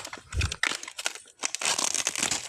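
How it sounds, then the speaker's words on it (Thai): A wild bamboo shoot torn down the middle by hand to peel it, giving close, crisp crackling and crinkling bursts that come in quick irregular clusters, loudest toward the end, with no talking. "กะว่าจะปอกโชว์ซะหน่อยครับ ฉีกกลางเลย"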